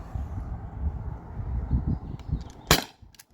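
A Beeman air pistol fires a single sharp, loud crack over a chronograph near the end, after a stretch of low rumbling handling noise, followed by a couple of faint clicks.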